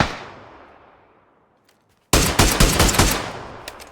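Gunfire in PUBG: Battlegrounds: a fading echo dies to near silence, then a sudden loud, rapid burst of automatic shots rattles close by in quick succession.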